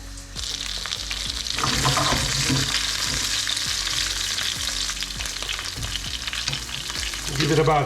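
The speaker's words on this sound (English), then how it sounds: "You can either cook it in a frying pan or in the oven" Sea bass frying in a frying pan, a steady, dense sizzle and crackle that holds throughout at moderate loudness, with faint clinks and stirring noises underneath and no talking.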